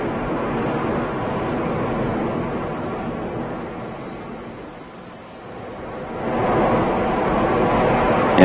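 An Atlas V rocket with its RD-180 engine climbs during launch, a distant broad rumbling roar that fades in the middle and then swells louder again toward the end.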